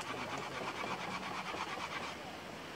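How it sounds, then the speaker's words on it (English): A stick is rubbed rapidly back and forth on dry bamboo lined with young bamboo skin to make fire, giving a steady, close, rhythmic scraping with no talking. "Take stick and rub."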